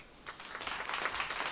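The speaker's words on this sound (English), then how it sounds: "Let's give him another round of applause" Audience applause fills a business conference hall for an SME event, a soft, steady wash of clapping that swells slightly and holds at moderate volume for a second or so.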